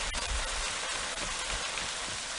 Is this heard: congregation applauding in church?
no